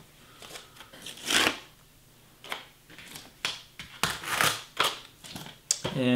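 Warning stickers peeled off the foot pads of a Sharper Image SOGO hoverboard, giving a series of close, sharp ripping and crackling bursts at irregular intervals, with speech heard between them.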